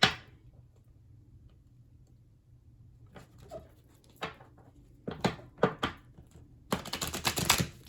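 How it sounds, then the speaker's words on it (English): A deck of Santa Muerte tarot cards is shuffled by hand. A quiet stretch of faint handling gives way to sharp, close riffling bursts and taps, growing busier toward the end. "But I do just want to give it a quick shuffle here."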